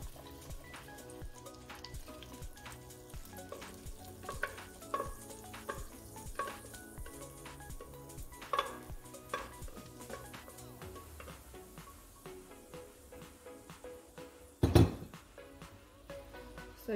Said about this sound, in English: The way it's bubbling and simmering already.